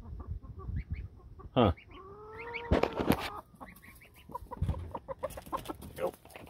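A Jersey Giant hen clucks and squawks nearby in a farmyard, with a sharp squawk, a drawn-out call and scattered soft clucks over a quiet background; a person briefly murmurs.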